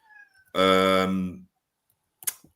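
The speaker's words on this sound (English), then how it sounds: "My cat's looking for who's meowing." A cat gives one loud, long, close meow lasting about a second, preceded by a faint brief sound and followed by a short soft noise.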